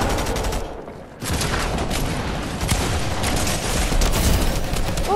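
Dense Fortnite video-game gunfire with shotgun blasts rattles almost continuously after a brief lull near the start, loud and layered throughout.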